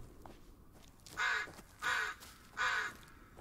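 A crow caws three times in the video game Blair Witch, evenly spaced harsh calls standing out clearly over a quiet, faint background with no speech.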